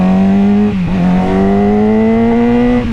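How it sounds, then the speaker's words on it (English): A motorcycle engine is held at its rev limiter, giving a steady, loud, high-pitched buzzing drone close by that dips briefly and then holds its pitch again, with no talk. "I just sent it to the rev limiter."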